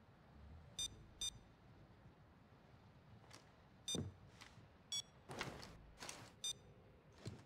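A telephone rings in the stealth heist game Payday 2, sounding as several short, bright electronic trills spaced across a quiet, low game background with no voices.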